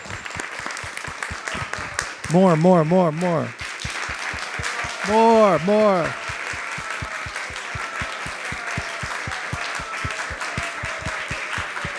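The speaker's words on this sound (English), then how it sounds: "I'd like to have a recognition, a round of applause for the whole group who presented today." A devotional gathering at a Krishna Katha session gives a round of applause for the presenters, evenly paced clapping that runs throughout, with short stretches of voices rising over it.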